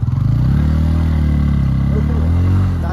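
Motorcycle engine running steadily while riding, close and loud, with a continuous droning hum that holds through the whole stretch.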